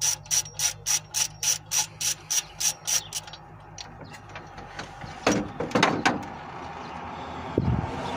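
A hand ratchet clicks in about ten rapid, evenly spaced bursts while removing a bracket from a 1995–96 GMC 5.7L engine, then metallic clanks and rustling handling of parts follow, close and without talking.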